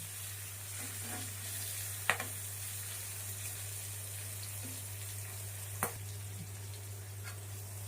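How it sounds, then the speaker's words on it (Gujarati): Chilies and sesame seeds with salt roast in a pan, giving a soft, steady sizzle over a low electrical hum. A couple of faint clicks break the quiet scene. "મરચા નાખી તલ ઉડે નહીં મીઠો લીધો એક મિનિટ જેવું આને શેકી લઈએ"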